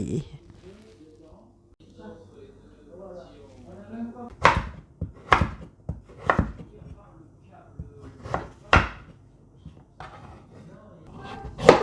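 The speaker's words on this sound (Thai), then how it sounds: "เอาเปลือกมันออกก่อน เวลา ปอกเปลือกต้องระวัง เดี๋ยวมีดโดนมือ" A knife peeling the skin from a pumpkin, sharp cutting and scraping strokes landing irregularly about once a second, close and crisp, with a voice talking between strokes.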